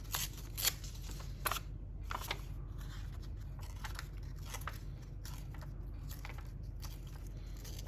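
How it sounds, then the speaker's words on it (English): Fabric being torn by hand to make a sewn pocket, giving crisp ripping bursts and crackles, louder at first, then lighter intermittent tears over a steady background hum. "I'm going to tear this a little bit larger to start with."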